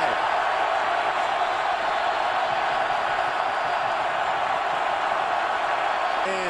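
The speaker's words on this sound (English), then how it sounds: "Now this crowd is alive." A packed stadium crowd roars steadily at a Baylor Bears versus West Virginia Mountaineers college football game, a loud, unbroken wash of cheering that holds at full intensity throughout.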